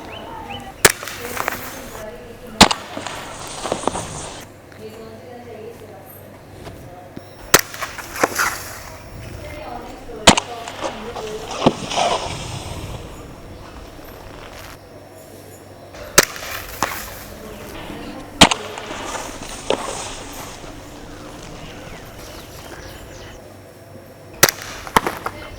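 A Glock 17 Gen 4 BB air pistol fires a string of sharp, snappy shots, roughly eight separated by a few seconds each, close and loud over a low background.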